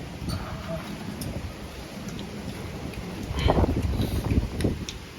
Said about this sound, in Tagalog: Ito may bagyo.